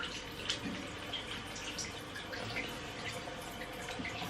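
A tap runs in a bathroom sink as skin product is rinsed off, a steady soft wash of water with small splashes throughout, close by and fairly quiet, with no talking.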